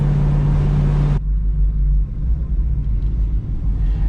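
1971 Ford Torino with a Gear Vendors overdrive cruising, a loud steady low engine drone and road rumble heard from inside, with a sharp drop in higher hum about a second in.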